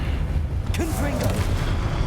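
A Confringo fire-blast spell from the game Hogwarts Legacy sets off a loud booming burst, with a voice calling out over the blast.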